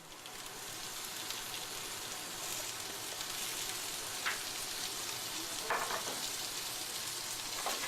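Potatoes, onions and lardons sauté in oil and butter in a pan, giving a steady, dense sizzle throughout with a few brief clinks of stirring, close and loud.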